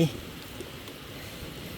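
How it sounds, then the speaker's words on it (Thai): Light rain falls outdoors at a rural fish trap, a soft, steady wash of drops at low level across the short stretch, with no talk over it. "เปียกแล้วฮะ ฝนมาแล้ว"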